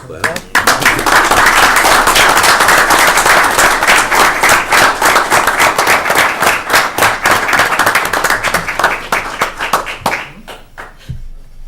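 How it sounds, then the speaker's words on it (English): A small crowd at a town selectmen meeting claps for a newly sworn-in member, a loud close burst of individual hand claps that thins into scattered claps and stops near the end. "Let's clap."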